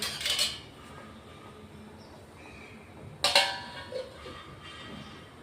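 A metal lid set on a pot of cooking corn gives two sharp clanks about three seconds apart, close and moderately loud, with quiet kitchen ambience between.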